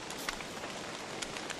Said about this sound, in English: It's annoying and raining tonight